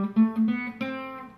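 Solo classical guitar plays the opening melody of Bach's Minuet in G as single plucked notes without bass, a short run of clear ringing tones heard alone, close and moderately loud.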